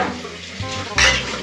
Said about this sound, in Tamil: பாத்திரம் கழுவிட்டு இருக்குங்க.